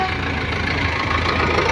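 A tractor engine runs steadily up close, hauling soil during rain, a continuous low rumble with a rhythmic chugging knock throughout.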